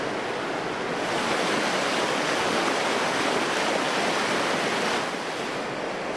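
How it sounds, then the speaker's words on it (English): Broad, steady roar of river water pouring over bedrock ledges at a set of rapids, continuous and loud throughout with no voices. "there are also 2 sets of exciting rapids made by the river dropping over ledges in the bedrock"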